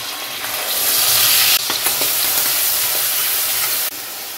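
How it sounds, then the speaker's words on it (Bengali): Onion paste fries in a hot pan while being stirred, a loud, bright, hissing sizzle with brief scraping strokes, cutting off sharply near the end. "দিয়ে দিচ্ছি পেঁয়াজ বাটা"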